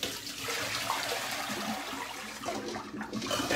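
Hot water pouring off a pot of cooking eggs into a sink, a steady rushing splash that runs continuously for a few seconds, moderately close with no talk.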